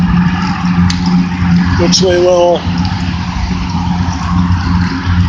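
Steady road traffic rolls past on the Sawmill River Parkway beside a rail trail near Van Cortlandt Park, a continuous low vehicle rumble that sits under someone talking.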